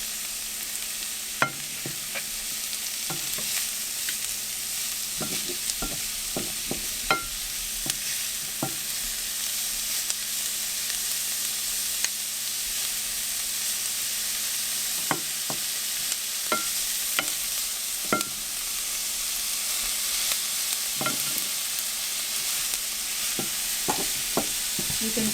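Carrots fry in a pan as a base for shakshuka while being stirred: a steady, moderate sizzle runs throughout, broken by irregular sharp clicks and scrapes of the spoon against the pan, with no voices.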